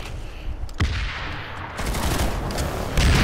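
Video game gunfire: a few sharp, loud shots stand out against a dense, steady background of game noise, with one near the start and a heavier burst at the end.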